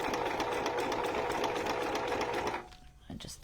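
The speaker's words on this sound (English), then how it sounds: "So I'm just going to sew and back stitch just to lock it." A domestic sewing machine runs a normal straight stitch on a junk journal cover, whirring steadily and rapidly up close for a few seconds before stopping, then starting again briefly for a back stitch.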